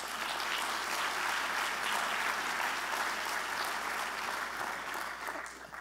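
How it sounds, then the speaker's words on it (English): Sustained, dense applause from an audience for event participants, loud and even for several seconds before easing off slightly at the end. "So a round of applause, please, for all of these participants."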